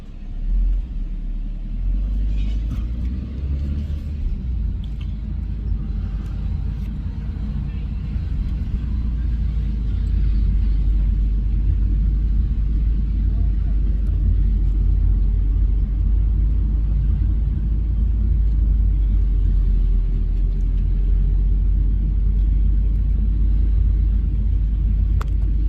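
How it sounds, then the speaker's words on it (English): A truck makes a U-turn on a road during a morning walk toward Bribie Island, its engine a steady, loud rumble that swells slightly as it turns and lingers nearby. "There's the truck doing a U-turn"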